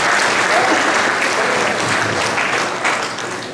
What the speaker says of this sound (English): So let's give a round of applause to her